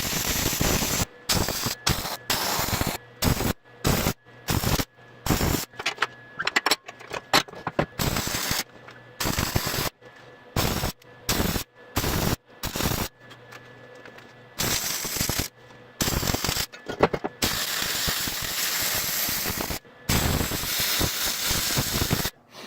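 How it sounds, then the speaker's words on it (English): Arc welding along a steel trailer axle and its gussets, laying heavy fillet welds at each joint: bursts of crackling, hissing buzz start and stop repeatedly over about twenty seconds, with brief pauses between passes. "you can weld also the gusset and axle together on this inside spot too"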